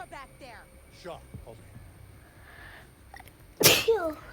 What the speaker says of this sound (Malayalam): ഇതെന്താ എനിക്ക് തുമ്മൽ പിടിച്ചേ.